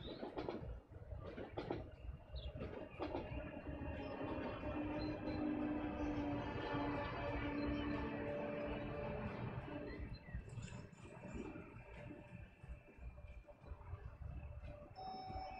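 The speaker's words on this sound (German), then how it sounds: "einmal das Bremsen und das Anfahren von der Lok hören" A video game locomotive with squealing brakes and humming motors slows, then pulls away again, tonal whines rising and falling beneath a low rumble, in Transport Fever.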